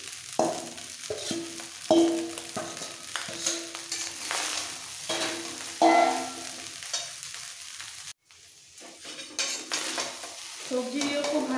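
Mixed vegetables sizzling and being stirred in a hot pan for vegetable fried rice, with a steady frying hiss under repeated scraping strokes and occasional utensil clinks, close and fairly loud, a brief pause near the end.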